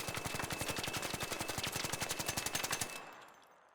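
Stitcher gun fitted with a compensator firing in the ARC Raiders video game, a rapid, even burst of roughly thirty loud shots over about three seconds that ends abruptly and leaves a fading tail.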